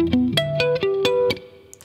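An opening phrase on electric guitar, a quick riff of plucked notes with ringing harmonics, bright and close with a little effect processing, played alone.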